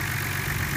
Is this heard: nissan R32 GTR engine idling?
yes